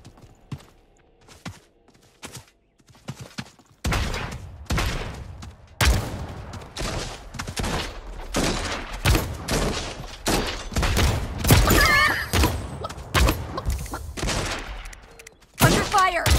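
Gunfire in the video game Eggscaped, with rapid clustered shots and bursts that start after a quiet opening and continue densely, loud and close, then break off and return near the end.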